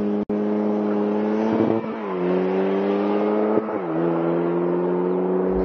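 A lightweight open-top car with a manual gearbox launches hard from a standstill. Its loud, close engine note climbs steadily, dipping briefly at two quick gear changes before pulling on again.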